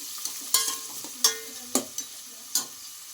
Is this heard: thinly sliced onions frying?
yes